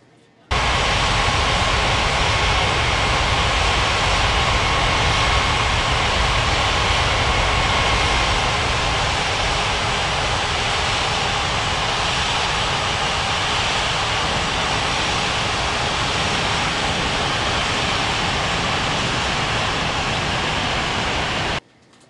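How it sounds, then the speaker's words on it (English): AirAsia airliner on approach to land at Bali runway 27, a steady loud roar of jet engines lasting without letup. "AirAsia 8610 cleared to land runway 27."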